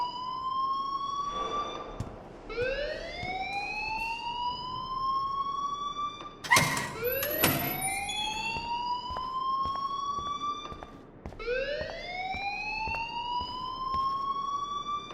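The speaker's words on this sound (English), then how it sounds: "please turn off that alarm since that's your job" A siren-like alarm wails through a school in the game Life Is Strange, its rising electronic sweeps repeating steadily and loudly on their own, with a brief clattering burst partway through.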